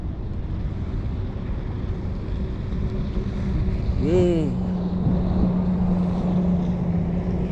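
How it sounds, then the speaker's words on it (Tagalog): Jet skis pass on open water near a fishing spot, making a steady engine and wind drone throughout, with a short cheer from someone nearby partway through. "Aga ng mga jet ski ngayon no?"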